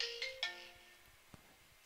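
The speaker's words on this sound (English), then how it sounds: "Sorry about that, phone ring." A phone ringtone rings in a short melodic burst of two or three chiming tones at the start, then fades out, fairly quiet in a room during a chess lesson.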